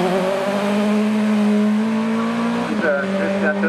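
An Audi 80 race car at hill climb training in Heiligenstadt sounds as a loud, close engine at high revs, with its pitch climbing through the gears and then dropping at a shift, while a commentator talks over it.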